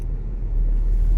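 A Volkswagen Passat TDI diesel sedan drives along with a steady low engine and road rumble heard from inside the cabin, smooth and continuous with no talking.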